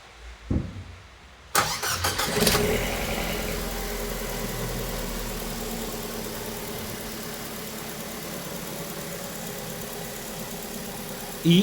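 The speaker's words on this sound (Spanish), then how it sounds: "y proceden a arrancar su auto." A car engine cranks briefly and catches, then settles into a steady, fairly loud idle that runs on alone for several seconds, during a battery test with a multimeter connected to the terminals.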